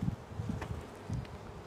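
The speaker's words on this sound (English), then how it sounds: "Bees all over me." Honey bees swarming around an open Flow Hive during beekeeping, a close, wavering hum with several buzzes passing near, plus faint rustling.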